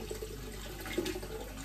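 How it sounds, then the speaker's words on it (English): Water running and splashing as saltfish is drained off in a pan at a kitchen sink, a steady close pour with a few brief louder gushes. "So now, drain off the saltfish."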